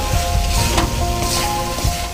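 Masala spice paste for Bengali chicken kosha sizzles and fries steadily in a pan, with close, continuous crackling and occasional scraping stirs.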